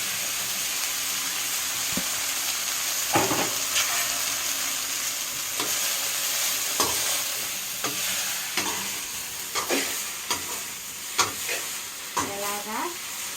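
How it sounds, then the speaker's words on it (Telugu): Fresh tamarind leaves dropped into hot oil for a peanut chutney, a continuous sizzle with intermittent stirring scrapes and clinks of a utensil against the pan, close and fairly loud. "ఆయిల్ అయితే కాగిపోయింది. ఇప్పుడు చింతాకు వేసుకోవాలి."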